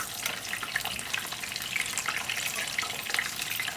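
Beef chapli kabab frying in a pan of hot oil, a steady dense sizzle and crackle running evenly throughout, close and moderately loud with no voices.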